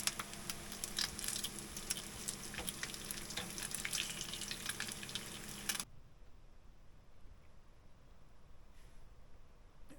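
Bacon and eggs fry in a pan outdoors in the mountains, a close, dense crackling sizzle that runs steadily for about six seconds before cutting off to quiet ambient hiss.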